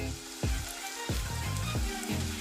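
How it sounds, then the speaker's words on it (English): Steady crackling sizzle of crab rangoon deep frying in hot oil, close by, with a few low thumps in the background. "when it's frying, if you see, you have one side going"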